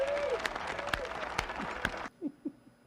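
Clapping from a played clip, a run of loud, sharp irregular claps close up that stops abruptly, followed by a couple of faint low thumps in a quieter room.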